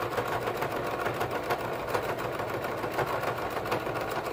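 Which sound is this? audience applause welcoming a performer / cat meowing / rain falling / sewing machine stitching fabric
sewing machine stitching fabric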